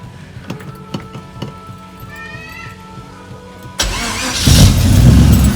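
A 1960 Holden Special pickup's engine cranks with a few ticking clicks, then catches and roars into a loud, steady run, rising further as it revs.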